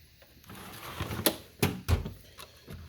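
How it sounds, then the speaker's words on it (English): A metal tool drawer holding SAE wrenches slides open in a home workshop, giving a few sharp clacks and a rattling thud, close and fairly loud with no talk. "This is the drawer that has wrenches in it for SAE work"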